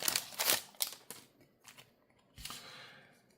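Yu-Gi-Oh! Rarity Collection 5 trading cards are shuffled by hand, close up, in a few quick papery bursts that fade into softer, sparser flicks and taps with no talking.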